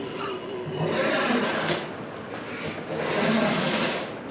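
A saw cutting strips of material along a marked jig, heard as close, rough rasping bursts that swell and fade in two main passes, fairly quiet, with no speech.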